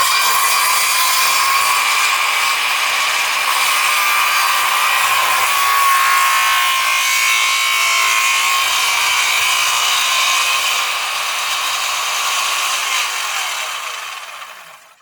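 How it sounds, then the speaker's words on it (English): A power saw plunges into deck stair wood, a loud steady high-pitched whine that holds for about fourteen seconds before tapering off at the end. "So I'm going to do the rest of what's called the plunge cut, where I drop it in."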